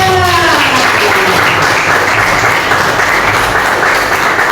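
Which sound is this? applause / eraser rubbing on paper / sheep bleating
applause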